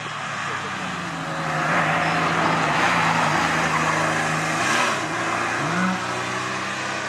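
A Renault Clio Williams passes at a historic hill climb, its engine note holding steady and then rising as it goes by at moderate distance, over continuous outdoor rumble.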